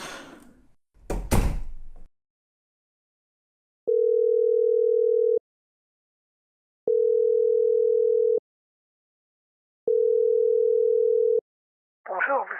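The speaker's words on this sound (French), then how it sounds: "vous appelez Hastings, et dites-lui de revenir" Telephone dial tone heard while calling a mobile phone: three long, steady beeps evenly spaced in otherwise near silence, with brief handling noises before and a short burst of sound at the end.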